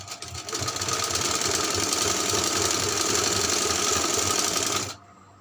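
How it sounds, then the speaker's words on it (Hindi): A sewing machine runs a long gathering stitch across frock fabric. Its loud, rapid mechanical whir goes on steadily for about five seconds, then stops abruptly. "ये हम लंबी सिलाई लगा रहे हैं इसके ऊपर।"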